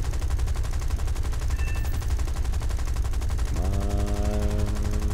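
Aircraft gunfire in the War Thunder video game rattles as a loud, continuous burst, with an engine-like drone rising in pitch near the end.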